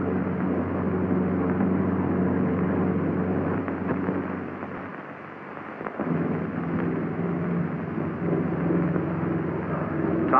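A Republic P-47 Thunderbolt's propeller engine drones steadily and loudly on takeoff, dipping briefly before surging again as it climbs away.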